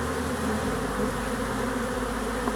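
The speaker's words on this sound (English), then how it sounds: "Nice bees though, they don't even care them right here." Close, continuous drone of a crowd of honeybees flying at the entrance of a hive in spring, steady and unbroken with nobody talking.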